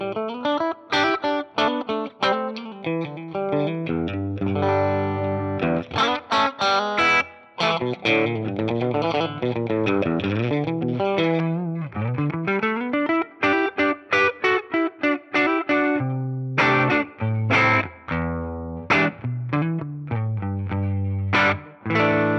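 A clean electric guitar played through a Fender Deluxe Reverb amp with gold plate reverb, bright and chimey, ringing chords and single notes in a steady rhythmic pattern with a few short pauses, alone and without talk.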